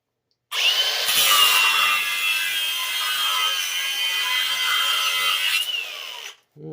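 A handheld power cutting tool slices off a rusted rear brake bolt on a 1995 Cutlass Supreme, a loud, sustained high-pitched grinding whine for about five seconds that starts and stops abruptly.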